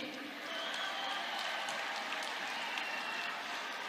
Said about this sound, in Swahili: Mkuu wa mkoa wangu anapiga makofi na yeye yumo